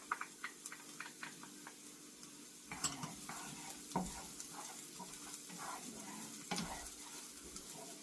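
Garlic sizzles softly in a frying pan while pork chops with bell pepper sauce are being cooked, with a few sharp ticks and clinks of stirring against the pan breaking through the quiet, steady crackle.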